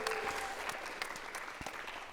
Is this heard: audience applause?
yes